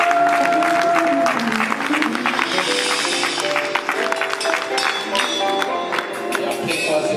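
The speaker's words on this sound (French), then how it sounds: "Sur vos acclamations, nous encourageons le pasteur Kabongo." Church congregation applauding and cheering for a pastor at a gathering in Paris, a loud, steady crowd roar with clapping and voices throughout, music-like tones mixed underneath.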